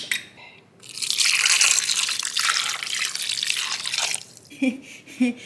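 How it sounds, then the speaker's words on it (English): Beef broth made from roasted beef base pours steadily onto meat in a home kitchen, a liquid splash for about three seconds, then a few drips and clinks. "we're gonna pour the broth over the meat."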